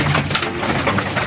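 Pigeons coo in a loft, a close, loud, soft throaty burble in a short burst with no talk.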